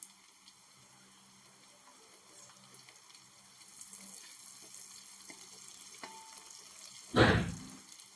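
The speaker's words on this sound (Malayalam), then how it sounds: "ആ ഒരു സമയത്ത് നമുക്ക് കറിവേപ്പില ഇളക്കുമ്പോൾ തന്നെ ഒരു കിളികിലെന്നുള്ള ശബ്ദം കേട്ടു തുടങ്ങി." Curry leaves dropped into hot oil for a mango and carrot white pickle burst into a loud, short crackling sizzle near the end, after a quiet stretch of faint kitchen noise.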